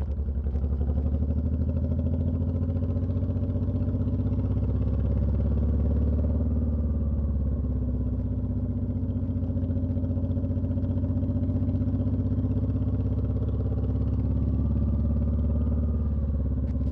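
A 2003 Honda VTX1800c cruiser rumbles steadily while riding, its deep engine note loud and continuous from up close, with slight shifts in pitch over the run and no talking.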